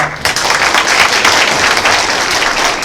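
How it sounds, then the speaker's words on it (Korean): Wedding guests in a convention wedding hall in Incheon burst into loud, continuous applause, a thick roar of many hands clapping together without pause. "큰 박수"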